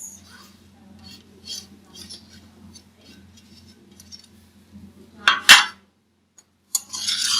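Chutney, cucumber, tomato and onion being mixed for chana chaat in a bowl, heard as soft spoon scrapes and stirring clinks, then a sharp close clatter of utensil on dish and a brief rustle.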